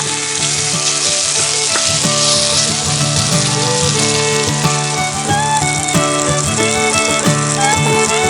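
Bacon sizzles and crackles steadily in a Dutch oven at a cold mountain camp, a loud, continuous frying hiss with brief pops throughout, and steady tonal background sounds underneath.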